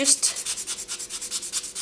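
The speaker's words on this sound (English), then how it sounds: "just sanding down that rough edge" Fast, steady back-and-forth sanding strokes along the rough edge of an earring piece, a dry scratchy rasp repeating about every tenth of a second, close and fairly quiet.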